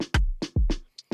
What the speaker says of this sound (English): we used a MIDI groove that we have here in the MIDI player that sounds like